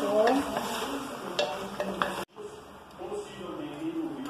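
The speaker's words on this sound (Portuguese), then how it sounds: "Vou mexer assim, misturar com o alho e com a cebola." Free-range chicken pieces stirred with garlic and onion in a pot, soft sizzling under scraping spoon strokes, briefly cut off then resuming more faintly.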